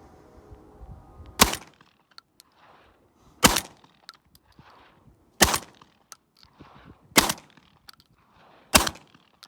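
A Benelli shotgun fires birdshot five times at roughly two-second intervals, each shot a sharp, loud crack followed by faint mechanical clatter and echo.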